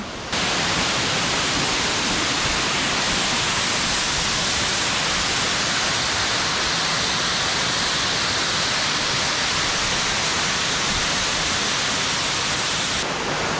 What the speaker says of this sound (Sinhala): ඔන්න ගායිස් දියැල්ල පාමුලටම ඇවිල්ලා තියෙන්නේ දැන්.